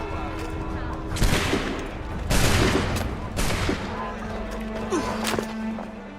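Loud volleys of musket gunfire ring out in Assassin's Creed III Remastered, three heavy bursts about a second apart with crackling echoes, followed by scattered smaller shots and shouting voices.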